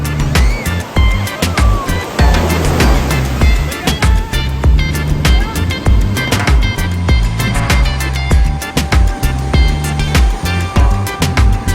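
Ocean waves roll onto the sandy beach at Kuta, Bali, loud and close, with steady pulsing surges and sharp crackling splashes throughout.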